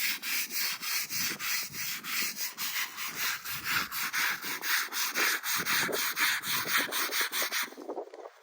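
A headstone is scrubbed clean by hand, giving a steady run of rhythmic brushing strokes, roughly two to three per second. The strokes are close and fairly loud, with no voices, and they ease off near the end.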